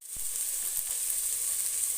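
Eggplant sizzles steadily in a hot pan, a bright, even crackle that holds throughout, with a few soft low knocks near the start.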